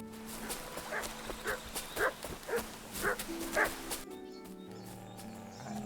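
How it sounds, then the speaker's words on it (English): Wolves bark in the wilderness of the video game Kingdom Come Deliverance 2, a run of about six evenly spaced mid-distance barks over a steady ambient game backdrop. "Not after long, I begin to hear barking."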